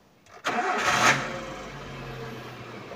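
A 2009 Suzuki APV Arena GL engine cranks and catches with a loud starter burst, then settles into a steady, fairly smooth idle heard from inside the cabin.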